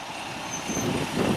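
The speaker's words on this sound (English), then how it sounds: "Finally, the bus is coming." A school bus pulls up on a morning street, its engine rumble swelling gradually and loudening toward the end of the short stretch.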